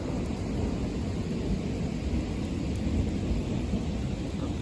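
Thunderstorm with rain easing off while lightning keeps flashing, a steady dense wash of rainfall with low rumbling thunder underneath, continuous and fairly loud throughout, no voices.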